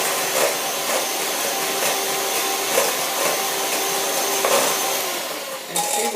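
An electric mixer whips butterscotch pie filling to a foamy stage, a loud continuous whirring drone that holds steady and eases slightly near the end.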